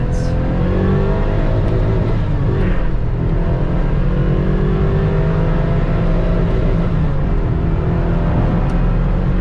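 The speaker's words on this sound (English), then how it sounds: "We're going to take the Corvette LT4, get her up on the freeway here real quick." A stock 1996 Chevrolet Corvette C4 with the LT4 V8 accelerates on a freeway, its engine droning loud and steady from inside the cabin along with road and wind roar, with no break.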